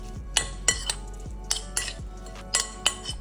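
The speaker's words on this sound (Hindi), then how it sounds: "खूब अच्छे से इसको मिक्स करेंगे" A spoon mixes chopped tomato with salt and coriander powder in a bowl, giving a series of sharp metallic clinks and scrapes at an irregular rhythm, close and clear with no talk.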